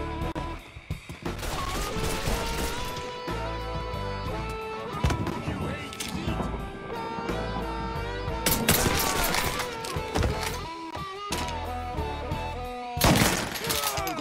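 Rapid gunfire in a video game: dense, loud bursts of shooting that keep going almost without pause, with people talking over the shots.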